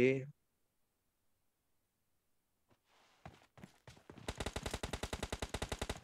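In PUBG Mobile, rapid automatic gunfire rattles in a fast, even burst after a few scattered single shots and thumps, loud and up close after a short silence.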